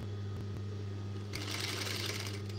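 A sewing machine stitches a baby shirt, a close, steady mechanical hum with a fast needle rhythm that speeds up and brightens partway through.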